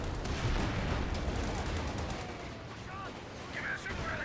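Gunfire from a German Panzer in Company of Heroes 2 during a large battle, a steady barrage of low booms and crackling shots, moderately distant, with voices calling out over the din.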